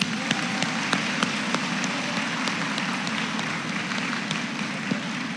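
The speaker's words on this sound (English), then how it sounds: "Can we give them an applause" A crowd at a school graduation ceremony claps for the graduates, a continuous, rain-like patter of many hands heard from a little distance, steady in level with a few sharper individual claps standing out.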